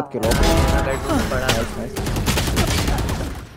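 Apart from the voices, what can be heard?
gunfire in the video game Valorant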